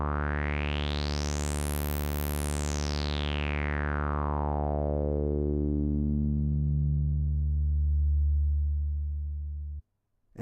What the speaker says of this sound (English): let's bring in some resonance with the 12 decibel per octave filter